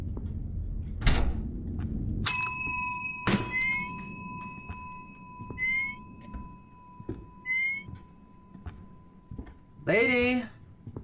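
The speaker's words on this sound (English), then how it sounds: "I rang your bell." A doorbell in a house chimes clearly, with sustained ringing tones near the start and further ring bursts later, over background room noise and brief vocal sounds.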